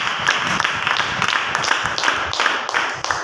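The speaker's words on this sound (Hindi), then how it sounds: "क्या ताली बजा सकते हैं?" A church congregation at a Hindi-language Christian service claps together in a steady, continuous patter of many hands, dense and fairly loud throughout.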